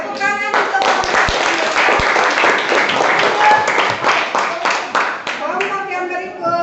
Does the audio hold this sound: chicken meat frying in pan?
no